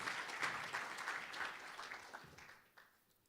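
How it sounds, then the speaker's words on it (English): An assembly audience gives a round of applause to an expert advisory group, a lively burst of many hands clapping that thins and fades out toward the end. "Can we give a big round of applause to our expert advisory group?"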